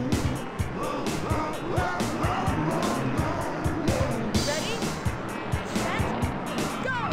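Game car engine in the Cruis'n USA arcade racer revs and shifts under loud music and effects, with tire squeals and passing whooshes, while someone talks over it.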